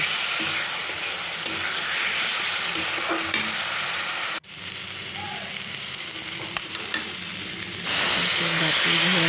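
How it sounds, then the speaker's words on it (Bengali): Fish frying with a ground paste of cumin and green chili, a loud dense hiss of oil filling the whole stretch, with stirring scrapes and a brief drop in the sizzle partway through. "জিরে আর কাঁচা লঙ্কাটা বেটে এসেছিলাম দিয়ে দিলাম দিয়ে ভালো করে কষিয়ে নেব"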